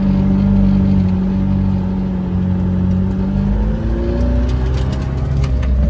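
Interior of a moving McLaren Senna hypercar, with a loud, steady low engine and road drone plus sporadic faint rattles from loose rocks, some brief sharper ticks near the end.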